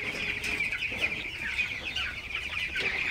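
Broiler chickens on a farm in hot weather, clucking and chattering in a dense, fairly close flock, a steady busy murmur of many birds with no talk.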